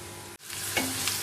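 Onions frying in a pan, a soft continuous sizzle broken by a brief gap before the hiss returns, with light stirring scrapes over it.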